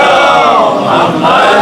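A large congregation at a Ramadan gathering recites salawat in unison, a loud, full chorus of many voices chanting together close by and sustained throughout.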